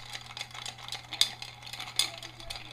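A Negroni stirred over ice in a mixing glass, with soft, continuous clinking and swirling, two sharper ice knocks standing out against a low steady hum.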